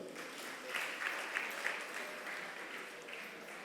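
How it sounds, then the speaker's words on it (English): A workshop audience on social media and music promotion claps for themselves, a soft, fairly distant patter of applause that swells slightly midway and then holds steady. "Clap for yourself."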